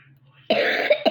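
After a brief quiet pause, a close, loud cough erupts, followed by a rough throat-clearing burst.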